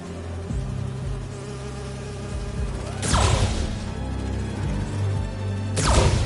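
Buzzing of holographic bee wolves in a video game, a steady insect-like drone under layered game sound, with two sharp louder swells about three seconds apart.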